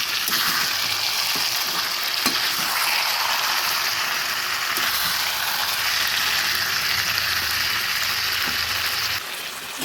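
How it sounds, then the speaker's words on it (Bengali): Chicken and potato curry bubbles and sizzles loudly and continuously in a pot, with occasional soft scrapes and knocks from stirring, close and alone until the sound drops slightly at the very end. "বারবার নেড়ে নেড়ে ঢেকে দিয়ে রাখছি"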